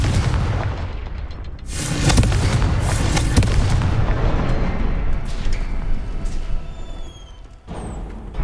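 A Confringo fire spell blasts in Hogwarts Legacy, a loud booming explosion with heavy rumbling bursts layered over continuous battle noise, fading toward the end.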